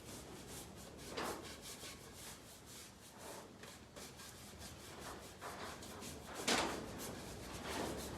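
A brush works clear wax over a distressed wooden door in soft, repeated scrubbing strokes, fairly close and quiet, with a couple of firmer swipes standing out.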